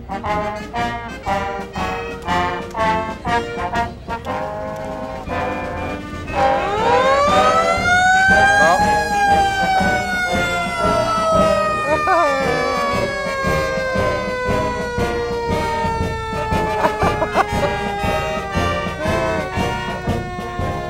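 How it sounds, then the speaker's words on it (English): A fire truck siren at a 4th of July parade wails loudly up and down, rising over and then sustaining above a community band's brass music, which is heard clearly at first. "I think the fire truck wanted to add some percussion to the wonderful band"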